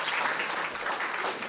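An audience claps steadily for students in an oyster-shucking and seafood-platter competition, a dense, even round of applause that fills the whole moment without a break.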